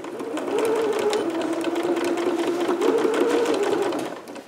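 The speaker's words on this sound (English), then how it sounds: "Stitch very close to your original seam line here." A sewing machine stitches a dress lining close to the original seam line, a steady loud motor whir with a constant hum running without a break for about four seconds, no talking.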